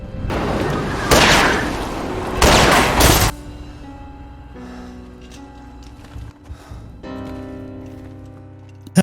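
Gunfire in a dramatized war story about Indonesia's independence war: loud, dense bursts of shots and blasts for about three seconds, then the sound drops away to quieter music.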